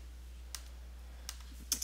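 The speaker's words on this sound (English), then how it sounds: "I'm going to type it all in" Three sparse, faint keystrokes tapped on a computer keyboard while an eBay item listing is typed, quiet clicks spaced apart with a soft final double tap, no talk.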